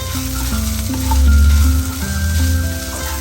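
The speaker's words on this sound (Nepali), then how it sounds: "अब तपाईको निङ्गुरे यसरी भुट्दै गएपछि मजाले भुटिसकेको छ" Ninguray fern fiddleheads sizzle loudly in a pan while being stirred with churpi, a dense close frying hiss that swells in the middle, with no voices.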